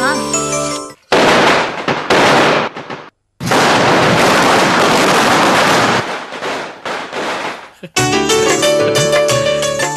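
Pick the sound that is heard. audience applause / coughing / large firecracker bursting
large firecracker bursting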